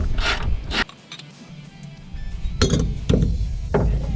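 Wrenching out 16mm bolts from a racecar drivetrain: scattered metallic clinks, ratcheting and scraping in short bursts, close and fairly loud, with quiet pauses between.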